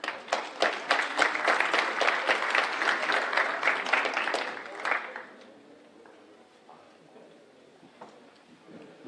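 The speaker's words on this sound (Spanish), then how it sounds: "Un aplauso, por favor, para ellos." Audience applause at a university entrepreneurship and innovation fair panel, dense clapping for about five seconds that then fades quickly into faint scattered claps and room noise.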